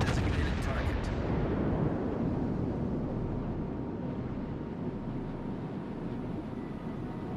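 Naval gunfire in World of Warships Legends during a battle with the Småland: continuous dense, booming low rumble of heavy guns and explosions, with a few sharp cracks early on, loud and sustained throughout with no pauses.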